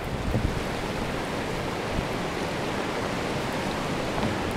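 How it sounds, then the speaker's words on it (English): Partially frozen creek on a mountain hiking trail in New Hampshire, steady broadband rush of flowing water close by, continuous and even with no talking. "crossing creek here. It's partially frozen over."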